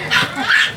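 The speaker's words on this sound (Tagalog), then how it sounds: "Ayun na, yun. Tumatahol na." A nearby dog gives two short, sharp barks in quick succession, loud and close with no talk over them.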